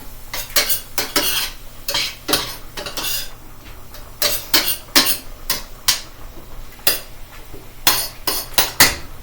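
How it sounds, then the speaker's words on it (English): Broccoli and carrots get tossed in a metal pan with a utensil, giving repeated loud scraping, clattering strokes in an irregular rhythm over a soft sizzle of frying, with no talking. "going to go in and check on the broccoli and carrots and toss those around a little bit"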